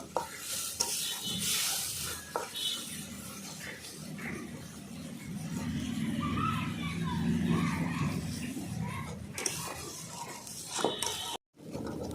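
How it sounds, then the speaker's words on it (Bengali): Fish curry masala for a mrigel fish curry, with turmeric and salt, sautéing in a pan: a steady sizzle with stirring and scraping, and speech at times over it. "দিয়ে দেবো হলুদ গুঁড়ো পরিমাণ মতন লবণ ভালো করে আমি দু মিনিট ধরে কষিয়ে নেব"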